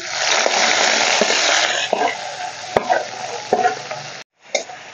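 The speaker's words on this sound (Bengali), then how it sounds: "এখন দিয়ে দেবো যে গ্রেট করে রাখা পেঁয়াজ।" Grated onion dropped into hot mustard oil in a wok, tempered with bay leaf, dried chillies and whole cumin, sizzling loudly and steadily with stirring scrapes before it briefly cuts out.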